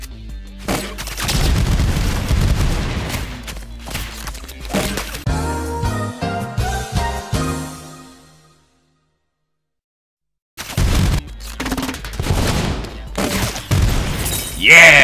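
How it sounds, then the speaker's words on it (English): Nuclear-warhead shots in the game ROUNDS, repeated loud explosive blasts and crashing booms under excited voices, a few seconds of silence, then more blasts. "I launch a nuclear warhead every time I shoot"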